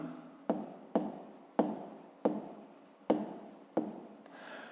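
A pen writes in a notebook during a fifth-grade maths exercise, seven short scratchy strokes in a regular rhythm, each starting sharply and trailing off, close and quiet with no talk.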